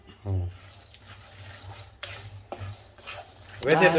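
Black-eyed peas fried in a heating pan, a soft sizzle with occasional scrapes and knocks of a spoon, rising to louder clattering rattles at the end.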